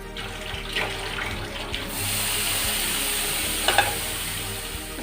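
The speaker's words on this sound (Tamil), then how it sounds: "எல்லாத்தையும் சேர்த்து மிக்ஸ் பண்ணிக்கோங்க." A spoon stirs a capsicum gravy mixture in a hot pan, making a steady frying sizzle with scraping strokes and a couple of sharp clinks near the end.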